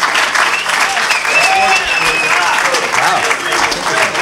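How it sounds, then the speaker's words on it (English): An audience at a conference panel breaks into steady, dense applause that fills the room at close range, with some crowd noise mixed in. "And are you applauding the hatred, or what exactly are you applauding?"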